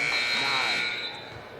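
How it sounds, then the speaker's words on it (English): Buzzer at the scorer's table during a girls' high school basketball game, a loud sustained electronic tone ringing for over a second and fading near the end, with gym ambience beneath. "And a missed buzzer, I believe."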